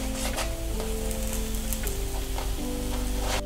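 Flatbread cooking in a frying pan gives a steady, close sizzle and crackle that runs throughout, with faint clinks and no talking.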